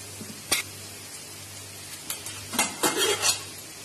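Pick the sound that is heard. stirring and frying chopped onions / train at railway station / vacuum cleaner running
stirring and frying chopped onions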